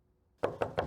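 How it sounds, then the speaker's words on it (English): Three crisp knocks on a door in a sitcom scene, evenly spaced and close, following a short stretch of near silence with no voices. "Reverse knocking?"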